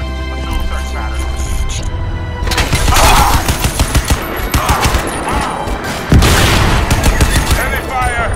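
Heavy gunfire in Crysis 2 Remastered, with dense bursts of automatic rifle fire and booming impacts close and loud, continuous throughout, while game voices talk over the battle.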